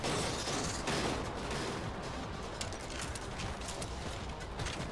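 Heavy sustained gunfire in the video game Vanquish: a dense, continuous barrage of rapid shots and impacts, loud and unbroken throughout.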